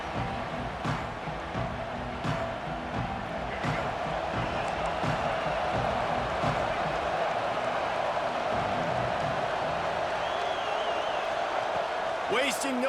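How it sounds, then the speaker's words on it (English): A stadium crowd in the EA Sports College Football video game roars and cheers in a steady wash of noise, with game commentary speaking over it throughout. "and this crowd now ready to get behind them."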